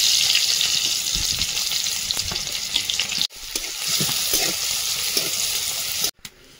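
Crushed garlic with chilli and cumin fries in a hot pan, a steady bright sizzle close by with brief crackles and two sudden cut-offs.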